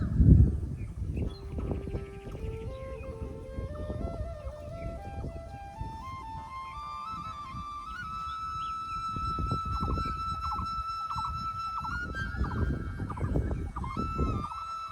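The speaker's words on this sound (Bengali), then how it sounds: "পাখিগুলো ডাকতেছে, একটু শুনেন।" Birds call outdoors in a village in Bogura, Bangladesh, a long rising whistle-like call repeated and climbing in pitch, with scattered rustling and faint background noise.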